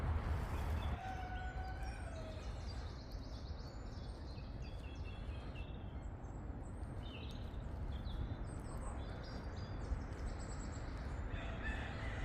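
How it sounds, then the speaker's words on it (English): A cockerel crows a few times at a distance over steady outdoor wind-like noise near a roadside camping spot, faint and with no talk. "There's that cockerel."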